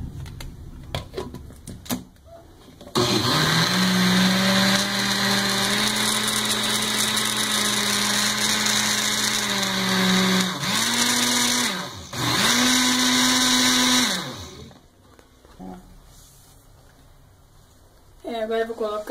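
An electric blender mixes chocolate cake batter for a Nega Maluca cake, its motor whirring loud and steady for about eleven seconds, dipping briefly, then running again before stopping, with faint talk before and after.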